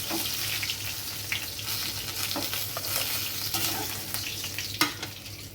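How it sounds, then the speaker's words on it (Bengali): Jute-leaf fritters stuffed with prawn deep-fry in hot oil with a steady, bubbling sizzle, broken now and then by light scraping and clinks of a utensil. "বড়াগুলো আমি একটু ডুবতে ভালো করে ভেজে নিচ্ছি"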